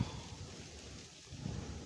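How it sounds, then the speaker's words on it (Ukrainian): Soft, steady patter of light rain falling outdoors on a wheat field, a quiet even hiss with no voices. "на дворі вітер і дощ вже почався"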